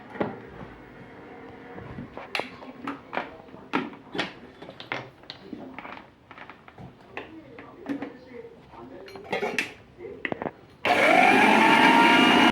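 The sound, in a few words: mixer grinder running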